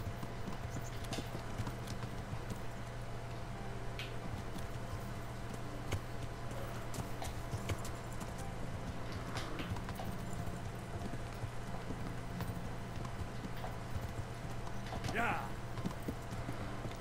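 Steady clip-clop of horse hooves trotting at an even pace over a constant low hum in the video game Kingdom Come: Deliverance, with a brief whinny-like cry near the end.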